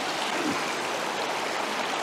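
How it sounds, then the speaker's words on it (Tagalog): Continuous pouring of hot water into coffee at a campsite, a steady splashing rush close by without pauses or talk. "Isalin na natin yung mainit tubig sa ating kape."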